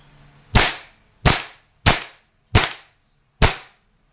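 An airsoft M4 rifle being test-fired in open-bolt mode lets off five sharp, separate cracks at irregular intervals, loud and close, with quiet gaps between shots and no talking.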